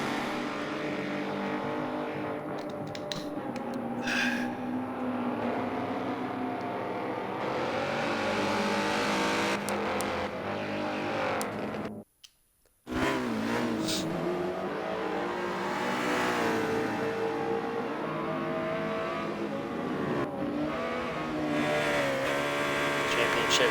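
Race cars at Road America in a Michelin Pilot Challenge round, Porsches, Mercedes and McLarens, power slide through corners with continuous loud engine roar and revving, one car briefly cut off mid-way, under commentary talk.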